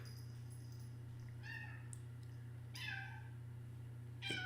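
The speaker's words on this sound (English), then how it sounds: "if you can hear my cat yelling, she's as confused as I am" A house cat yowls in a few drawn-out calls indoors, separated by pauses, over a steady low electrical hum.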